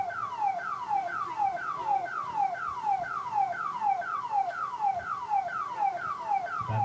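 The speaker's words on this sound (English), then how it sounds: "This race is brought to you by the Viper alarm system." A Viper car alarm blares a steady, repeating falling-tone cycle, loud and unbroken with no talk over it, heard during a racing event broadcast.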